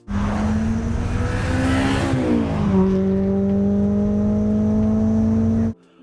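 A Honda S2000 sports car engine revs hard and climbs steadily to a high-pitched wail near 9,000 RPM, shifting its tone midway as the high-lift cam engages at 6,000 RPM, then cuts off abruptly near the end.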